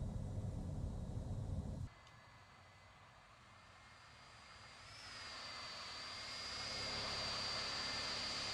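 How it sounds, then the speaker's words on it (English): An American Airlines Boeing 757 engine spools up in a faint, steady build, with a low rush that gives way to a thin rising whine that climbs and then holds. "Very subtle engine start sound."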